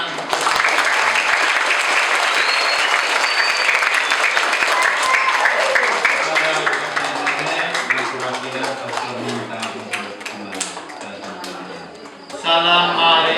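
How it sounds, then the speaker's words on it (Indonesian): An audience at a church mass marking Grandparents' and Parents' Day breaks into dense, sustained applause that fades slightly toward the end, with voices mixed in. "Kita tepuk tangan."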